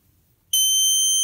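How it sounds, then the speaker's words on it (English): A Snap Circuits light beam alarm suddenly goes off after near silence, a loud, sustained high-pitched electronic tone that holds steadily to the end. "they'll likely reach into the light beam and set the alarm off"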